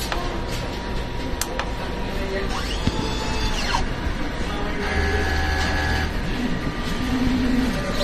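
A DTF printer running a nozzle test whirs and clicks mechanically, with a carriage sweeping back and forth, brief ticks and a steady motor hum over several seconds, close and fairly loud.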